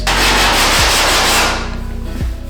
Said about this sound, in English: the file is going to hit the areas that are high, and it's going to expose the areas that are low